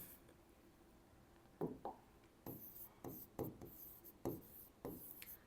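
A pen writes an equation on paper, giving a series of short scratchy strokes in quick bursts with brief pauses between them, close and fairly quiet.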